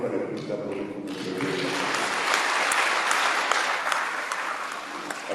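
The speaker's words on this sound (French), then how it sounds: "Et je me demande encore une fois de plus d'applaudir pour monsieur" Applause for an honoured guest at a public gathering in Tenkodogo, a dense, sustained wash of many clapping hands after a voice fades out, holding steady to the end.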